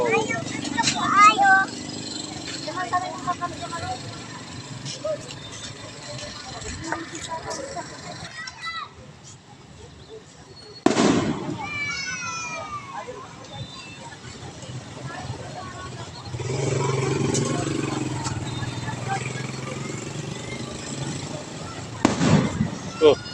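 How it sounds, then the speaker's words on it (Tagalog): Fireworks pop and crackle in repeated bursts outdoors at a night market in Lingayen, with a louder boom near the middle, amid a background of chatter and crowd noise. "May fireworks."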